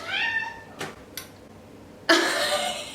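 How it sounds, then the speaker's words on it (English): A pet cat named Ember meowing indoors, a drawn-out meow followed by a couple of brief sounds and then a second loud, close meow, with no talk. "Ember has literally been meowing this entire video"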